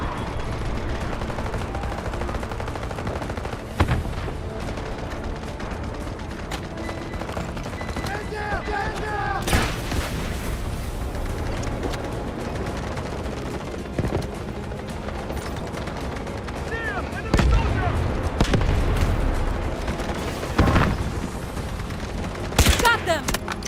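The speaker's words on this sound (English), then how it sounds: "Artillery barrage ready." Heavy artillery barrage in the Delta Force video game, with dense rolling booms and crackling gunfire blasts that keep pounding throughout, sharper impacts punching through several times, while voices talk over the din.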